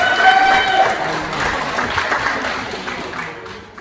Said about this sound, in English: One more round of applause for Mr. and Mrs. Boyle, everyone.